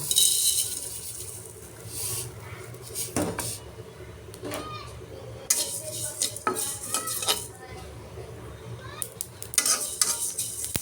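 Oily sizzling of chilies frying in a pan, with metal utensils scraping and clinking as it is stirred, while a person talks intermittently.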